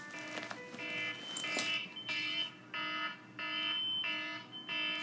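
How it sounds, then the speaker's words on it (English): A 7 o'clock phone alarm rings in repeated short electronic tone bursts, fairly quiet, with a brief rustle near the start. "That's my alarm. Get my alarm."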